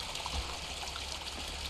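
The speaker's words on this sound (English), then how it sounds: "Oh, I can collect here some water." Water trickles steadily from a source in the video game Mundaun, a soft, faint, continuous dribbling with no voices over it.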